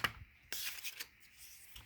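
Quiet papery riffling and soft slaps of tarot cards being shuffled by hand, a few brisk bursts close by with no talking.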